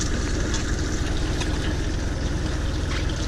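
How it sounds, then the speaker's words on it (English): Tractor engine idling in a field during pepper planting, a steady, close low rumble with an even mechanical throb running unbroken throughout, no voices. "And then you gotta stop the tractor and wait for Andrew to get situated."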